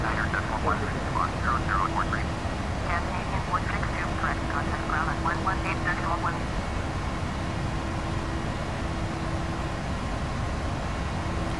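A steady, loud engine and airflow drone fills the flight deck of an airliner climbing out of Copenhagen toward cruise altitude, with brief voices over it early on.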